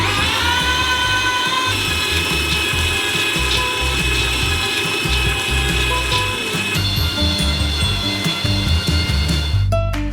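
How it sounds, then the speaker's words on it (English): An industrial meat grinder crushes a large batch of nuts through a small nozzle, giving a continuous loud mechanical whir with rattling, grinding texture and a sharp clatter near the end. "We transfer them into a meat grinder. And grind them through a small nozzle."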